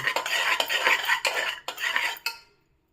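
Utensil scraping and clinking as cooked moong dal is stirred inside an opened pressure cooker, a series of close metallic knocks in an irregular rhythm that stops near the end, with no talking.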